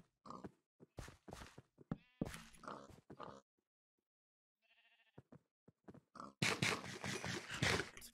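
Minecraft pigs and livestock make short grunting and bleating calls in bursts, the farm animals' noises scattered through the stretch with loud clustered sounds toward the end.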